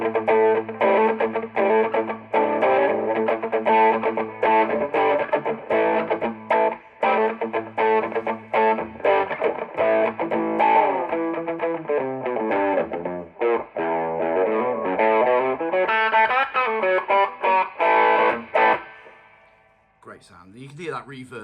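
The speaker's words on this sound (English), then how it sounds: "that spring reverb doing its thing in the background" A distorted electric guitar through a Carvin MTS3200 2x12 combo amp with spring reverb plays chords and riffs with a reverberant, splashy tail, loud and continuous, ending in a brief trailing wash.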